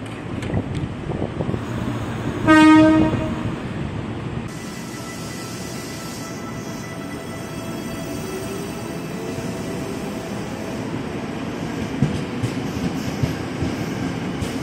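A KRL Commuter Line electric train passes on the elevated tracks at Manggarai station, a brief horn blast sounding early on, then a continuous rumble of rolling wheels and wind noise that carries on for over ten seconds.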